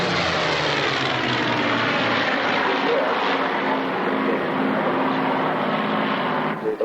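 A vintage fighter plane with a Daimler-Benz engine flies past at the Biggin Hill Battle of Britain airshow, a loud sustained propeller-engine drone with shifting pitch, while a voice talks faintly underneath.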